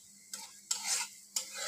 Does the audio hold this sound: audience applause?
no